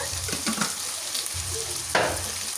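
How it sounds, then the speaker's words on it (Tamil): Tomato and onions for chicken curry sauté in a pan with a continuous close sizzle, broken by soft stirring scrapes and a louder hiss near the end. "இப்போ நாங்கள் இதை நல்லா வதங்கட்டும்"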